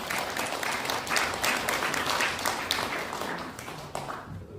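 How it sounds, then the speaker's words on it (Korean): Audience applause at a Korean academic seminar, steady dense clapping from a crowd filling the room throughout, fairly loud and close, tapering slightly near the end. "자, 박수 보내주시기 바라겠습니다."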